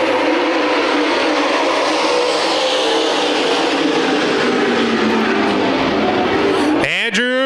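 Dirt track race cars at Adams County Speedway in Iowa, a NASCAR dirt racing event, roar past loud and steady in a continuous engine drone, with a sharp rising whine as one car passes close near the end.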